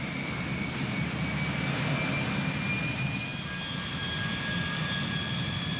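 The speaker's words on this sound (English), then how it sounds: "It was the Lockheed YF-12, a high-speed, high-altitude aircraft" A Lockheed YF-12 high-speed, high-altitude aircraft gives off a steady, continuous roar with high whining tones held throughout, loud and unbroken.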